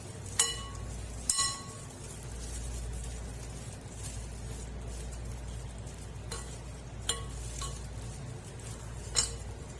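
Seasoned ingredients tossed in a pan with salt, cumin and garlic powder, soft continuous shuffling with a low sizzle and a few sharp clinks of a utensil against the pan, quiet and close.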